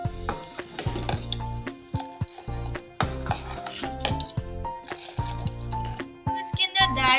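A spoon stirs three teaspoons of sugar into tea in a metal pot, giving rapid clinking and scraping against the sides in uneven bursts, loud and close with no talking.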